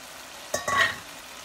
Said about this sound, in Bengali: এখন আমি এর ভিতরে দিয়ে দিচ্ছি চিংড়ি মাছগুলো।